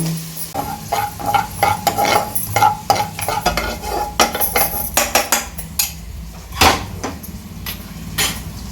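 Poppy seeds and cumin dry-roasting in a pan for a village-style field bean (avarebele) sambar, with repeated close scraping and stirring clatters of a spoon against the metal pan, fairly loud with no talking.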